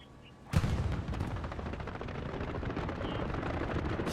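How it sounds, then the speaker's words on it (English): In a multiplayer shooter match, an aircraft's strafing run hits with a sudden loud burst, then rapid sustained gunfire and rumbling impacts roll on steadily for several seconds. "Strafing run by Redbeard"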